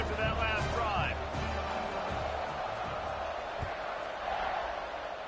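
Stadium crowd cheering in a college football video game at a Mississippi State at Baylor matchup, a broad steady roar with faint whoops, heard under talk.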